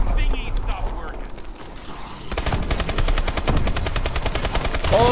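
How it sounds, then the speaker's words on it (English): Rapid automatic gunfire in the zombie mode of Call of Duty: Advanced Warfare Exo Zombies. A loud, steady burst starts partway through, after muffled game sounds and mixed effects, and voices are heard with it. "Oh my gosh, this gun is so weak."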